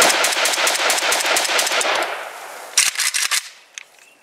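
An AES-10B rifle in 5.45x39 empties a magazine in one long, fast, loud burst of closely spaced shots, followed after a pause by a few separate louder reports and a last faint pop, with no voices.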